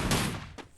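Shotgun blasts in the Free Fire video game, one loud broadband burst at the start followed by a second, shorter shot, both close and without talk.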